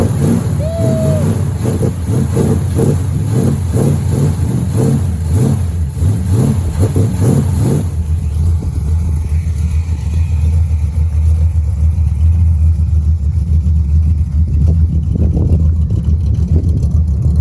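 An old International truck engine runs loud and close, revving with uneven rising pulses, then settles into a steady heavy rumble for the rest of the run.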